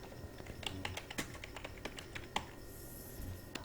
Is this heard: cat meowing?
no